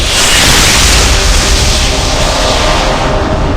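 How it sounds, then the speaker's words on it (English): A sustained roaring blast from a video game explosion in Icewind Dale: Enhanced Edition fills a cave with steady, loud broadband noise for several seconds, with no voices. "Suddenly, the entire cave was engulfed in an explosion of blinding light."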